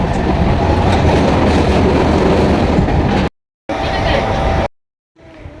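A passenger train rumbles loudly along the rails near Suri with steady rattling clatter, interrupted by two abrupt silent gaps; voices murmur faintly inside the carriage.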